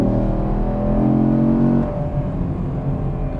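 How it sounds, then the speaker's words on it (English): Chevrolet Camaro 1SS V8 exhaust roars loud and close under hard acceleration, a steady deep rumble that drops off sharply after about two seconds into a lower idle-like burble. "let's just give it a little exhaust test, or maybe a little bit of an acceleration test"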